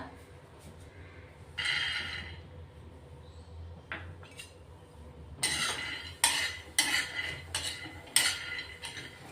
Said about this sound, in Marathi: अर्धी वाटी शेंगदाणे भाजून घेतोय आपण आता।